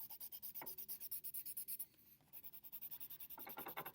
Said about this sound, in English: I'm going to use some colored pencils instead in the background